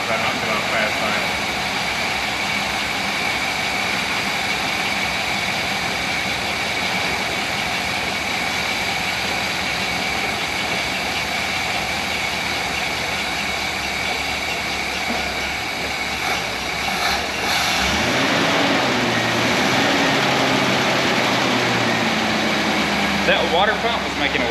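A 1964 Rambler Ambassador 990 engine idles in a steady, even drone, close and continuous throughout, with a brief shift in tone near the end and people talking faintly over it.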